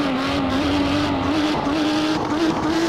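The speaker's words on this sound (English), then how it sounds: "It's almost like it's kind of fuel starving a little bit there, or hiccuping." A Lamborghini Miura P400SV in Assetto Corsa drones steadily at a high, even pitch, its engine stuttering with faint hiccups on the throttle, loud and close with no talk over it.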